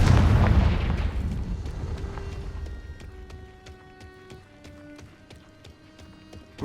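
A Confringo fire-blast spell goes off in Hogwarts Legacy. A loud booming burst opens and decays into a ringing, crackling tail with sparkling tonal chimes as it fades.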